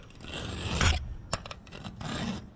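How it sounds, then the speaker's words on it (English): A flat file held at a 45-degree angle rasps across the threads of a worn bolt in a shop, giving several short scraping strokes, moderately close, with no talking. "You turn your flat file up on a 45 and you file it out until you go down to the base, the valley of those threads."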